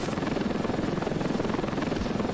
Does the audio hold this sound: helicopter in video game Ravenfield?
yes